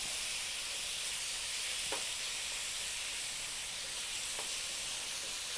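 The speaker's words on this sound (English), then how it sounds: "we're going to sear our meat really quick, constantly move it because we want to sear it" Meat sears in oil in a hot pan, giving a steady, close sizzling hiss with a couple of faint ticks, and no talking.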